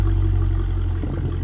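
A Dodge Challenger widebody with a V8 engine idles nearby, giving a steady, deep low rumble that holds even throughout, with a slight waver near the end.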